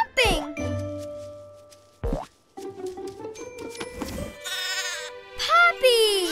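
Sheep bleat in an animated children's cartoon set in Mongolia. Several loud, wavering cries rise and fall amid springy boing effects, jingling tones and a voice.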